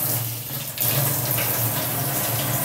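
Water is poured steadily onto a small money plant seedling, making a loud, close, continuous splashing gush. It pauses briefly near the start and then runs without a break.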